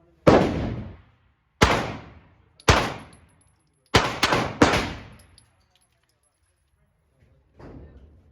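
Glock 23 and Glock 26 pistol shots crack loudly at a shooting range, six sharp reports with decaying tails, one pair fired in quick succession, followed by a fainter distant shot near the end.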